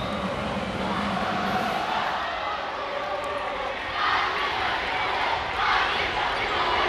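Student cheer sections at a high school girls' basketball game roar and chant in a packed gym, a broad crowd wash that swells louder in bursts toward the end, with voices mixed in.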